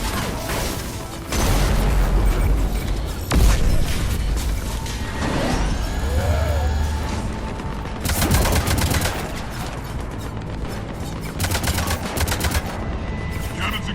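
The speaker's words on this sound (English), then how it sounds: "Cannons engaged." Loud, sustained cannon fire and explosions from a Mass Effect 3 battle sequence, dense rolling booms and bursts with mechanical clatter continuing throughout, barely a pause in the barrage.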